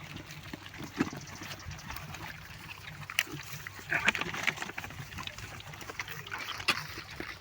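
Free-range wild-boar-type pigs on an open field feed on food scraps, with soft grunts, snuffles and oinks scattered through the clip against a low background hum and faint water trickles, fairly quiet and close.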